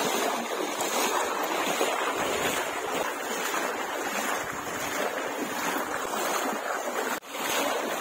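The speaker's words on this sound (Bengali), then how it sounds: "এখন জল স্রোত বেশি যাচ্ছে, অনেক জোরে জোরে স্রোত যাচ্ছে" Strong river current rushing in a hilly area, a loud steady broadband wash of water mixed with wind buffeting the microphone, continuous throughout with one brief dip near the end.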